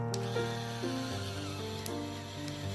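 A handheld INECIY 3D pen's small motor feeds filament at its slow speed, a faint, steady mechanical whir with gear-like ticking that runs unbroken and close throughout.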